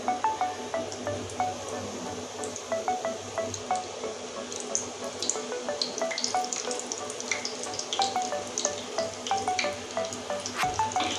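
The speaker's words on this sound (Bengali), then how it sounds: "এগুলো তেলে ছেড়ে দিচ্ছি কম তেলে দিতে হবে না হলে ভিতরে কাঁচা থেকে যাবে" Crispy snack dough, a biscuit-style treat, frying in a small amount of oil, with a steady close sizzle and scattered pops and crackles running throughout, no talking.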